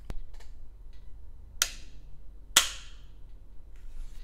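Shots from a CZ Scorpion Micro 3+ pistol-caliber firearm, heard as a few sharp, separated cracks at a moderate distance against quiet background noise.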